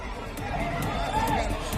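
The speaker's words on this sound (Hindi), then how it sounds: "वहां भगदड़ मच गई और लोग गमले लूटकर भागने लगे" A crowd in Buxar scrambling to grab decorative flower pots set out to welcome Chief Minister Nitish Kumar: a steady, faint babble of many voices with hurried movement, under close talking.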